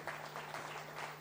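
An audience at a university's twentieth anniversary celebration in New Delhi applauds softly and steadily, a faint continuous patter heard from a distance with a low hum underneath.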